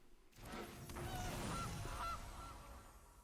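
A goose honks twice in a digital card game when a Gilded Goose card is played, short nasal honks standing clearly over a steady background hum.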